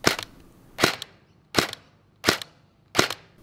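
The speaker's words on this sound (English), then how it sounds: "Semi, it'll fire one shot per trigger pull." An M4 V12 gel blaster fires five single shots in semi-auto mode, one sharp crack roughly every 0.7 seconds, loud and close with quiet gaps between.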